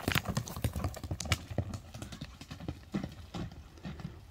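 Horse hooves clip-clop on the ground in a brisk, uneven run of close, sharp knocks, with no talking.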